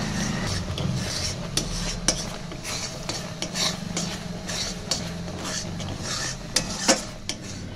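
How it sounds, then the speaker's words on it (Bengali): Continuous stirring of a thick milk powder and cardamom sweet dough in a pan, a metal spatula scraping and tapping against the pan in an uneven rhythm over a low background hum, close up. "এরপর অনবরত আমি নাড়তে থাকবো"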